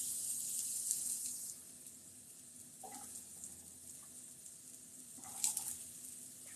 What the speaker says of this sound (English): we are going to sear off this beautiful zucchini